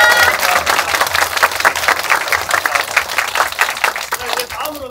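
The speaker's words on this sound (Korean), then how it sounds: "이때 대답을 해주신 우리 모든 분들께도 큰 박수 부탁드리겠습니다." A theater audience at a curtain call in a small Korean art hall applauds with dense, lively clapping mixed with crowd murmur and a few cheers, strong throughout and easing slightly at the end.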